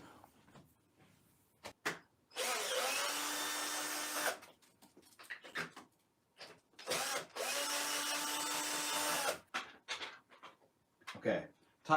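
A power screwdriver backs out the top cover screws of a Veteran Patton electric unicycle: two steady whirring bursts of about two seconds each, close by, with light handling clatter between them.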